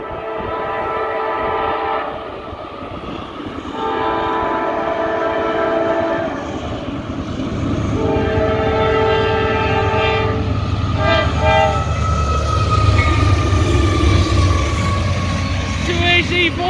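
CSX mixed freight train led by two AC4400CW locomotives passing close by, with loud repeated horn blasts over a heavy diesel rumble and wheel noise.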